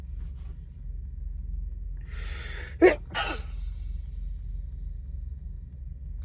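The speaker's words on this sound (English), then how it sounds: "That was a sneeze." A single sharp sneeze, preceded by a quick intake of breath, close and sudden against a low steady hum, apparently inside a truck cab.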